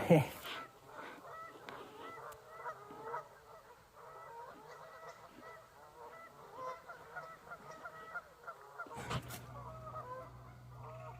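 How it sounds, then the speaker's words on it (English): Geese honk repeatedly in a noisy, overlapping chorus at a moderate distance, continuing throughout with a brief louder burst near the end. "Oh man, them geese are still going."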